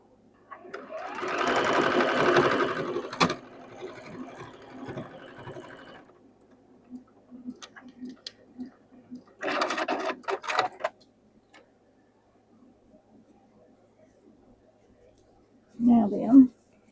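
Sewing machine stitching fabric with the seams turned down, running in a loud burst for several seconds, then a shorter run and a final brief spurt, with quiet handling noises between.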